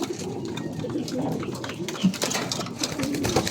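Pigeons cooing in a breeding coop, soft low coos scattered among rustling and a background hum, fairly quiet and close.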